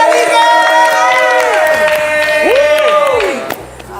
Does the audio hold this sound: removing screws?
no